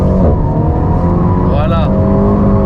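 An Alpine car's engine revs loudly and close during a drift run, pitch rising and falling as it shifts into third gear, with people talking over the engine noise.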